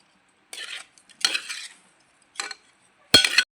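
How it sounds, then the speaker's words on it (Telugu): A spoon stirs prawn curry in a cooking pan, four separate scraping strokes with a metallic clink on the last, close and distinct against near silence. "ఒకసారి తిప్పుకుందాము"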